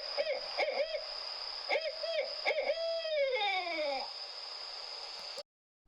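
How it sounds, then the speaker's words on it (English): An owl hoots repeatedly at night in a bedtime story setting, a string of wavering, descending calls over a steady high tone, fairly close and continuous until stopping abruptly near the end. "At night, the owl takes to the skies."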